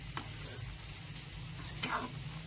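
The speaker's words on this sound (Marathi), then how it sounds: "दही मिरची किती छान शिजत आहे" Dahi mirchi, green chillies cooked in yogurt, simmers softly in a pan with a faint, low bubbling hiss, broken by two brief clicks, quiet and close with no voices.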